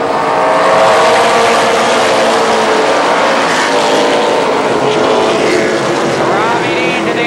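Race cars accelerating down the backstretch at Columbus Motor Speedway during the Superstar Shootout, a loud continuous engine roar with rising and shifting tones, under an announcer's commentary.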